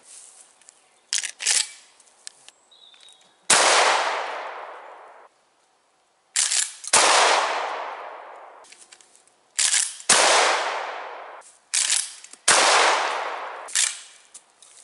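Rapid shotgun blasts firing 7.5 birdshot come in loud, close pairs and triples, each with a long echoing decay, separated by short silences.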